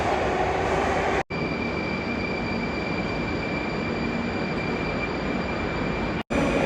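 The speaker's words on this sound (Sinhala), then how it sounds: "ඔන්නේ ඉතින් මෙට්‍රෝ එක ආවා." A metro train rumbles close and loud into a station, a steady roar with a high whine from the wheels, briefly cutting out twice.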